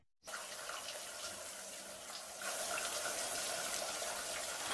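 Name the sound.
shower water running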